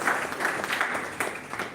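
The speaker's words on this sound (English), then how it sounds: "I may request everyone for a great round of applause for this prestigious organization" Audience applause at an inauguration ceremony for a national-level oratory contest, a steady burst of clapping from a crowd indoors, fairly close and continuous, with no voices over it.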